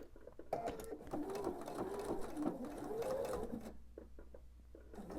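A sewing machine stitching quilt fabric with a scant quarter-inch seam, a steady close whirring hum with rapid needle patter running for a few seconds before stopping.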